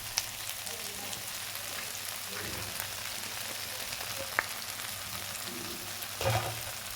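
Roti noodles frying in a pan over low gas, a steady soft sizzle running throughout with a few brief stirring clinks and scrapes, close and alone.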